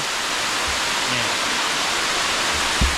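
A waterfall beside the Moei River in Tak, Thailand, gives a steady, close, full rush of falling water that continues unbroken, with no talking.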